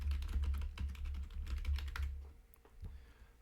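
Rapid typing on a computer keyboard, close and fairly quiet, with a quick run of key clicks that thins to a few scattered taps toward the end, over a low steady hum.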